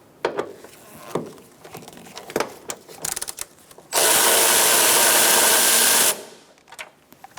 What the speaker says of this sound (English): Now we're going to take out this bolt using a 12mm socket.